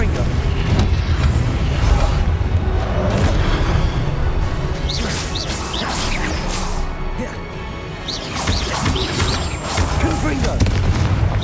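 Confringo blasting curses from a Harry Potter video game go off amid a dense, roaring stretch of game battle noise, with booming, crashing bursts throughout and voices talking over the din.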